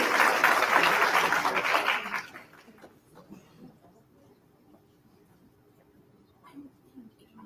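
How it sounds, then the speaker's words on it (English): Audience applause for a true crime author at a winter lecture series, a dense burst of clapping for about two seconds that stops abruptly, leaving a quiet room with faint rustling. "A nice round of applause for Susan"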